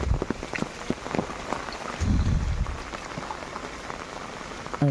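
Steady rain pattering on a surface nearby on an open hilltop plateau in Konkan, a dense continuous patter with a brief low thump partway through.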